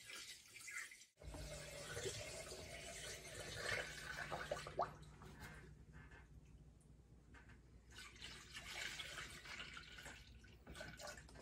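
Engine coolant pours slowly into the radiator of a 2007-2021 Toyota Tundra, a steady, close trickle of liquid. It is fairly quiet and plays with no talk over it.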